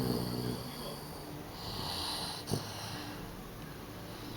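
A sleeping Dogue de Bordeaux puppy snores softly and close by, with slow, low rasping breaths rising and falling over several seconds and a brief snort in the middle.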